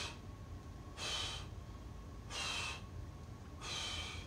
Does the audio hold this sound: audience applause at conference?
no